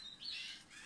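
Small birds in a home aviary, a brief faint chirp or two at a distance, with nothing else around.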